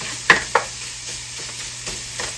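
Sausage gravy being stirred in a skillet with a wooden spoon, two sharp scrapes early on, then softer scraping strokes over a faint steady sizzle, close by.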